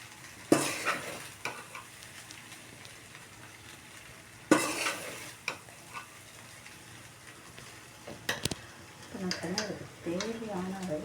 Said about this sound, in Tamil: அந்த சாப்பாட்டை போட்டு நல்லா வதக்கி விடணுங்க